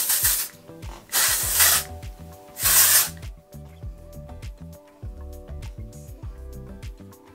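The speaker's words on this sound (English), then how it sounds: "I'm gonna take the Way Texturing Hairspray, and it's cool because it is a texture spray and a hairspray" Three long bursts of texturing hairspray hiss up close, each a second or so, over a backdrop of gentle music.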